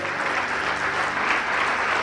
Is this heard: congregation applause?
yes